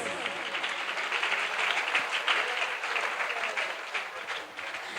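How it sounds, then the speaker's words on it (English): Students at a school investiture ceremony applaud outgoing school cabinet members, steady crowd clapping heard at moderate distance in a hall, holding level throughout before easing slightly at the end. "Now let us give big round of applause to our outgoing school cabinet members."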